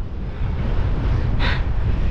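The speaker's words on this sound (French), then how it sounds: "Et même sur le bitume, on a le vent de face." Headwind buffeting the microphone while cycling along a paved greenway, a steady broadband rush of wind noise throughout, with a brief brighter gust swelling in the middle.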